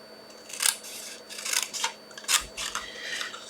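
Scissors snipping thread during embroidery work, several sharp close-up cuts in irregular succession, some in quick pairs, over a quiet room hum with no talking.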